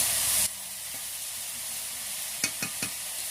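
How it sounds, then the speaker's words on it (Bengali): Potato slices for aloo bhaja, seasoned with salt and turmeric, are stirred in a frying pan. A sharp burst of hissing fades into a quiet, steady sizzle, then three light clacks of the utensil on the pan follow. "নুন হলুদ দিয়ে এটাকে আমি অনবরত নাড়তে থাকবো"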